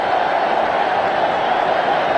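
A large cricket crowd roars steadily for a batsman's fifty at an India versus West Indies match, a dense, loud, continuous wash of cheering.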